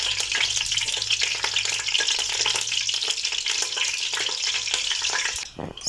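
Potatoes frying in hot oil in a pan after caramelized onions, a steady loud sizzle with crackling bursts and occasional stirring scrapes throughout.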